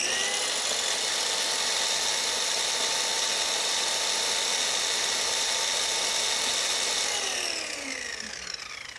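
A Ronix RH-4350 165 mm plunge saw runs free at full speed with a loud, steady high-pitched motor whine, then spins down near the end.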